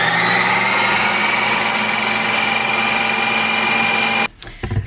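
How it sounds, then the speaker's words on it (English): Ninja Creami machine spinning frozen low-carb light ice cream, a loud continuous motor whine with a steady pitch held close for over four seconds before cutting off abruptly, followed by a few faint clicks. "And then this goes into the Ninja Creamy machine."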